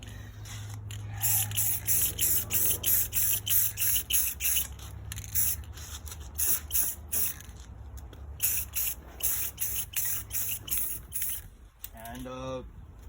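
Spray paint hisses in rapid short bursts onto an IS300 HKS rear diffuser, close and loud, with brief gaps between passes and a few faint mechanical clicks near the end.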